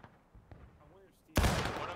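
Loud artillery cannon blast in the Civil War battle game War of Rights, a single heavy boom after faint distant shots and a brief voice, its roar carrying to the end.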